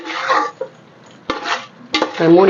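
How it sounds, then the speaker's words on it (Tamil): Food being stirred and frying in hot oil in a pan for a Tamil chicken dish, with short bursts of scraping and sizzling separated by brief quieter gaps, close and fairly loud. "எண்ணெயிலே வதங்கட்டும், இப்படியே வதங்கட்டும்."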